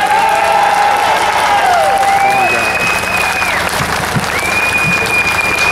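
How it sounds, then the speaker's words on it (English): Rally crowd in Freedom Square breaking into sustained applause and cheering, loud and steady throughout, with faint voices mixed into the clapping. "Let's hear it for Denis Curran!"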